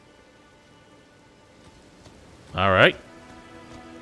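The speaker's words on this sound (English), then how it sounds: "now the frames are hurting because it's raining" Rain falling in the video game Elden Ring, a steady soft hiss running throughout, briefly interrupted by a short spoken word.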